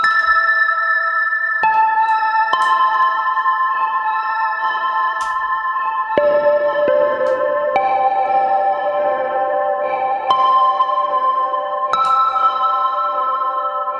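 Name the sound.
washy reverb with fade-out delay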